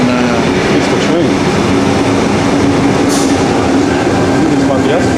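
A train pulling into a station platform in Hong Kong, a loud steady rumble of wheels on rails with faint squealing tones, close and continuous throughout.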